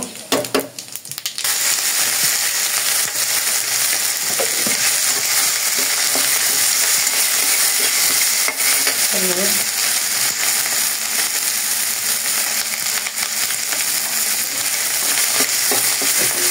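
Cumin and whole spices fry in hot oil with a steady, loud crackling sizzle that begins after a brief clatter and runs unbroken for over fifteen seconds, with occasional faint stirring scrapes and no voices.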